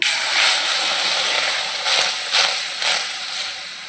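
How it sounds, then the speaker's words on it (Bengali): Water poured into a hot pan of dry-roasted semolina, giving a loud, steady steaming hiss with a few surging bursts as the liquid hits the hot grains. "এবার একটু ভাজা হয়ে গেছে আমি এবারে জল দিয়ে দেব"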